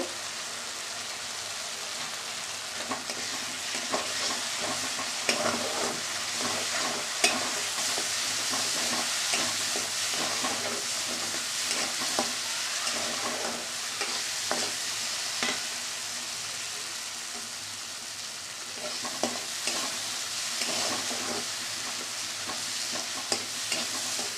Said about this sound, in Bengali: মশলাটা তো কষানো হয়ে গেছে।